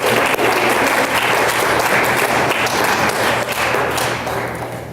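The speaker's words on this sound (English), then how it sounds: "How about another round of applause for our Impact Team?" Loud, sustained applause from a crowd, dense clapping that fills the room and begins to fade slightly at the end.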